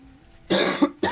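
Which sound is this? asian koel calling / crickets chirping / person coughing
person coughing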